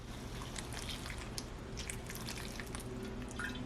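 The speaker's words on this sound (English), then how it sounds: "So there's simmering going on here." Food simmers in a little water on a tealight-heated raclette grill, a faint, steady bed of tiny bubbling pops and soft ticks with no voices.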